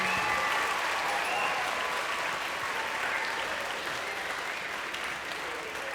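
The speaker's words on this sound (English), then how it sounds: "Let's give them one more big round of applause and thank them for coming." A middle school assembly audience gives a long, even round of applause, full and close, with a light murmur of voices within it.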